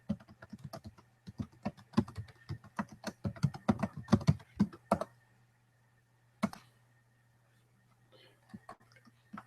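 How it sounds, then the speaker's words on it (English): Bursts of quick keyboard typing while a username and password are entered into a WordPress setup form, dense clicking for about five seconds, then a lone keystroke and a few scattered taps over a faint steady hum. "write Babcock, put in a password here."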